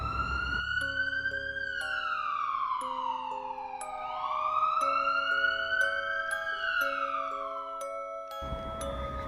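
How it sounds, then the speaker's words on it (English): A police-style siren sound effect, continuous and steady for about nine seconds, its pitch sweeping up and down, with no voices. "the sound of sirens getting louder"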